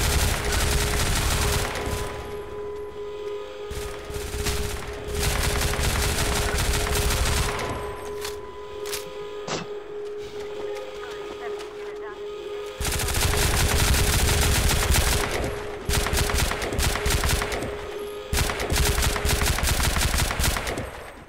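Automatic gunfire rattles in Half-Life 2 Cinematic Mod, long loud bursts of rapid shots separated by short pauses, with combat noise filling the gaps and no talking.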